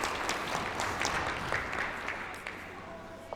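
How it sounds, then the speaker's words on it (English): Audience applause at a women's curling final, a steady patter of clapping spread across the arena, moderately loud and continuous for a few seconds, fading slightly toward the end. "Deserved round of applause there for Diane Gushulak"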